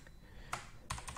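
A computer keyboard clicks faintly as SQL is typed into a query, a few sharp keystrokes spaced irregularly within a quiet second, nearby and without speech.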